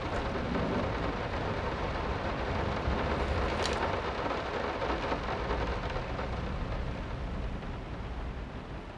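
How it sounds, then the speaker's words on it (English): Steady, heavy rain with low thunder rumbling underneath fills a scene in the horror video game Layers of Fear. The downpour sounds dense and constant throughout, with no talk. "Rain is too loud."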